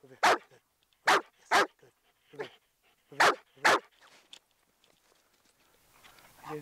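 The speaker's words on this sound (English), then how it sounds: "All I'm gonna do is teaching them how to bark in front of me." A dog under obedience training with a professional trainer barks several times in short, separate bursts, loud and close, with brief pauses between barks and quieter handling sounds in the gaps.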